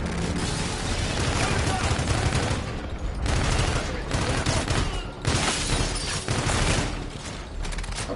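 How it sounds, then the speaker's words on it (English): Aegis guns firing in the Call of Duty Infinite Warfare video game, a dense, loud, continuous barrage of rapid gunfire and mechanical clatter with brief dips, filling the whole stretch. "ZDF is using our Aegis guns to shoot down the fleet."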